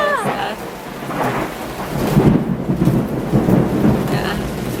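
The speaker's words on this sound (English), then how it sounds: "you guys can probably hear all this crazy thundering." Thunder rolls during a heavy thunderstorm, a loud rumbling swell that builds and lingers over steady rain, close and dominant with no voices.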